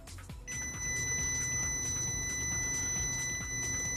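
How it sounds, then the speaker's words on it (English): A steady high-pitched electronic buzz starts abruptly and holds continuously, the continuity tone of an ANENG 618C multimeter testing an 8.25 ohm resistor, over a low background hum. "you're going to have that continuity beep or buzzer sound"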